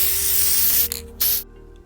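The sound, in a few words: black spray paint can spraying undercoat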